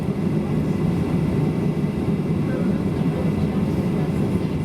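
An airliner landing and taxiing at Cusco airport in Peru, with a steady, loud low engine rumble and cabin drone that continues unbroken throughout.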